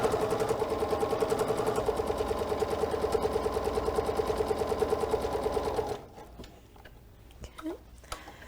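A sewing machine chain pieces a quilt block, its fast, steady needle stitching running loud and continuous for about six seconds before stopping, leaving quiet handling noises and faint rustling.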